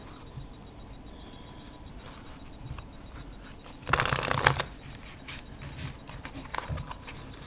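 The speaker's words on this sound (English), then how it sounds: "Okay, they shuffle pretty good." A Hoyle deck of playing cards is riffled in one quick, crisp burst partway through, surrounded by quiet handling noises.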